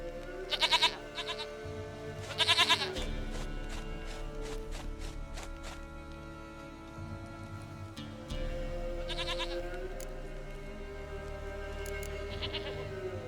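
A goat in The Witcher 3 bleats repeatedly in short, shaky bursts spread over several seconds, moderately close, with faint footstep-like taps and a low droning game ambience underneath.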